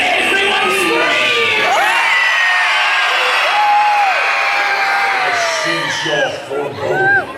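Passengers on a Disney cruise ship at a Halloween show scream and whoop together in a loud, sustained crowd roar that peaks in waves and tapers off at the end.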